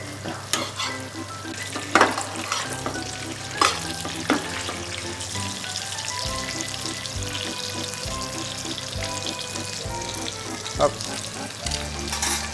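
Butter foams and sizzles loudly around a steak in a pan with thyme and garlic, steady frying hiss broken by spoon-basting clinks and stirring scrapes, with occasional talk underneath.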